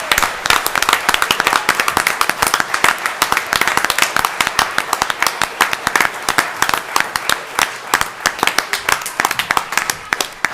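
Loud, sustained applause from an audience at a county board of commissioners meeting, dense clapping celebrating a group of third-grade children, continuing steadily throughout without letting up.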